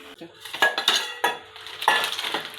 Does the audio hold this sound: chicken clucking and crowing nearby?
no